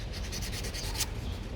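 A soft, steady scratchy rubbing of 500-grit sandpaper over a hard surface in short repeated strokes, close by, during Toyota Vios maintenance.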